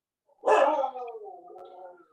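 A single dog lets out one loud, close bark that trails off into a drawn-out whining howl, heard in an otherwise quiet room during a town board meeting.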